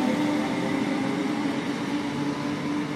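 A Class 319 electric multiple unit, number 319369, runs through Eccles station on the line toward Manchester Victoria, giving a steady, fairly close electric hum and rumble with a faint tonal whine throughout.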